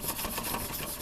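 The bevel of an old paring knife is rubbed against a sharpening stone in quick, close, rhythmic rasping strokes during a brief stretch with no talking.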